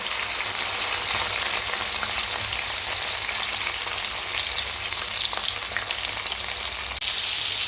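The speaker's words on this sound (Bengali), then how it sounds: "মাছের তেলটা নুন হলুদ মাখিয়ে রেখেছি, এরপরে আমি তেলের মধ্যে দিলাম" Steady, loud sizzling and crackling of fish fat rubbed with salt and turmeric frying in hot mustard oil, a continuous spattering hiss with no talking.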